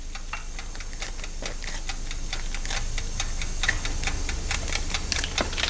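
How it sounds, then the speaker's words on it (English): Scissors snipping through a plastic delivery matrix tray, a run of sharp, irregular clicks and cuts close by at a steady working pace over faint background hum. "I'm going to pull it out of there and just cut it with some scissors"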